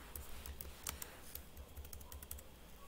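Text is typed into Notepad on a computer keyboard, a quick, irregular run of soft key clicks close by with no talking.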